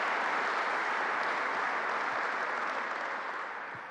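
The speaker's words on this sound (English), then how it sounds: "Let's give him a round of applause." Sustained audience applause for Bob Duffy at a groundbreaking ceremony in Rochester, a dense steady roar of many hands clapping that holds loud for several seconds and begins to fade near the end.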